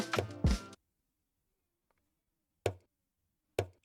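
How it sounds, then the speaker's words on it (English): Brief speech-like burst up front, then two sharp conga drum hits spaced about a second apart, each a single dry slap with a quick decay. "This is a conga drum."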